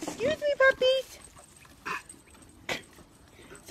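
Young dogs whimper and yip in a quick series of high, squeaky cries near the microphone, followed by a few softer whines.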